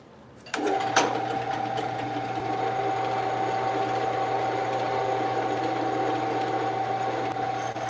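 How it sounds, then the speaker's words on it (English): A steady, high-pitched motorized whine starts abruptly and runs unbroken as a drill bores holes through a steel knife blade, close and constant. "we'll go ahead and drill it."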